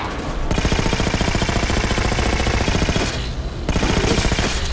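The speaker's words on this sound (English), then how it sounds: "Okay, these guns are just great." Automatic weapons fire in the video game Halo 4, a loud, fast, continuous rattle of shots in two long bursts separated by a brief pause, with no talking.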